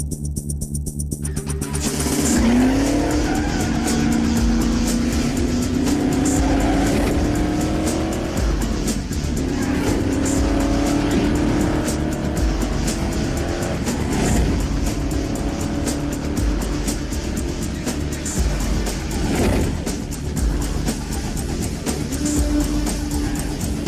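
Race cars at Area 51 Raceway roar loudly and continuously, engines rising in pitch as they accelerate along the track with tire squeal and passing cars layered in, no talk over it.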